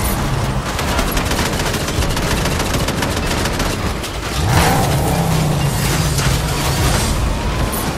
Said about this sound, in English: Who's this guy shooting at us?